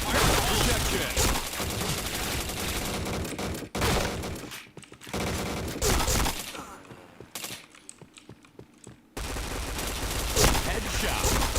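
Bursts of rapid video game gunfire crackle loudly in clustered volleys, broken by brief quieter gaps before the shooting resumes at full intensity.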